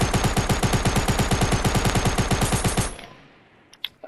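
A player's gun in a video game fires a rapid automatic burst of evenly spaced, loud shots for nearly three seconds, then cuts off to near silence with a couple of faint clicks.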